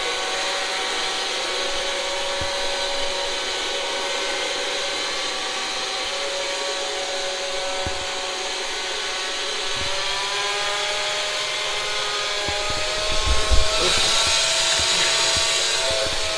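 Bristle-revolution pet deep-scrubbing carpet cleaner running steadily with a loud, constant whirring motor drone and a faint tonal whine, close by, with brief knocks near the end.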